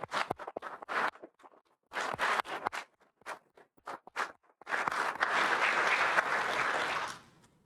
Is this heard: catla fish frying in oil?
no